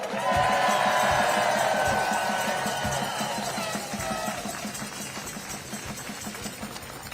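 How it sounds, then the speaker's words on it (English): Crowd at an outdoor teachers' union strike rally cheering and clapping, a loud wash of voices and applause that slowly fades, with a steady low rumble running underneath. "So give yourselves a huge round of applause."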